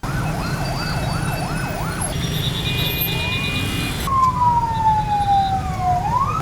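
An ambulance siren wails through congested traffic near the city hall in Bamako, first a rapid yelping cycle, then a steady tone and a long rising-and-falling sweep, loud and close over engine rumble.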